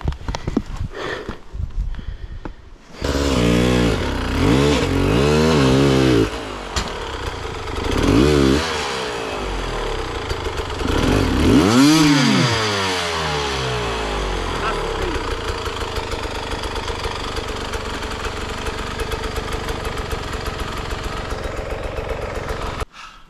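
A Sherco SE 300 motorcycle engine catches after a few seconds and revs hard in several close, loud rising-and-falling bursts, then settles into a steady, buzzing idle for the rest of the stretch.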